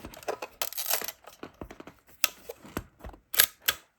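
Close, sharp mechanical clicks from a Minolta Hi-Matic 7 film camera, its shutter and advance clicking in an irregular series of about a dozen snaps and rattles with brief quiet gaps between them.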